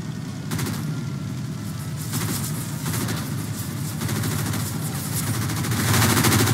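A plane's machine gun in Roblox Wings of Glory fires several short, rapid bursts, each a loud stuttering rattle, over a constant droning engine, with no talking.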